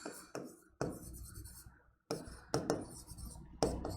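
Marker or pen strokes writing out months during a puzzle lesson, a series of short, sharp scratchy strokes with brief gaps, close and moderately loud.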